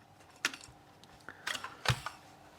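A small plastic part is cut away while a rear screen is fitted in a Tesla Model 3 or Model Y, heard as a few sharp, separate clicks and snaps with quiet pauses between them.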